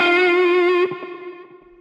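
Electric guitar played with a muted picking technique: a sustained distorted note rings, then short choked, palm-muted plucks follow, close and solo with no voices.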